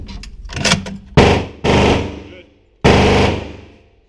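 A Barrett .50 caliber rifle fires at an indoor range, three loud, sharp booms spaced about a second apart, each trailing off in a long echo, with a bit of talk at the start.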